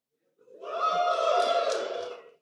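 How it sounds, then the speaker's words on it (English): Live audience at a Houston sports talk show cheers and whoops in a brief swell of crowd noise lasting about two seconds, rising and fading with no speech over it. "Pause for applause."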